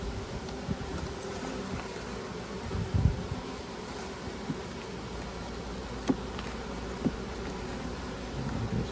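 Honeybees in an opened hive recovering from swarming hum in a dense, steady buzz, with occasional closer bees droning past the microphone.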